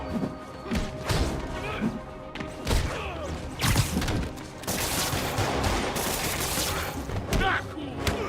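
Repeated gunfire, shots and crashing impacts in the Marvel's Spider-Man Remastered video game sound in irregular bursts amid action effects, with voices shouting over the fight.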